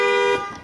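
Horn of a 2017 Infiniti Q50 car alarm, a single loud steady honk cut off partway through, close by with no voices.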